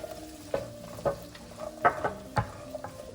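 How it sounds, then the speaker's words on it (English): Celery, onions and carrots saute in oil in a pot under a low, steady sizzle, while a utensil scrapes and stirs in several distinct strokes about every half second, close by, with no one talking. "I'm gonna start putting in the celery, the onions, and the carrots to let those saute for a bit"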